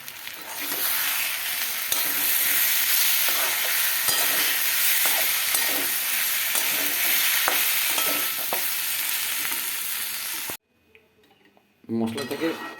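A spoon stirs Kashmiri chilli powder into frying spices and oil in a pan, with loud continuous sizzling and repeated scraping for about ten seconds before it cuts out, then brief talk.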